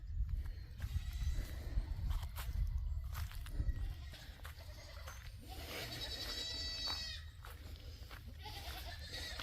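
Several goats bleat in short wavering calls, one louder bleat standing out midway, over a low outdoor rumble and some scattered knocks.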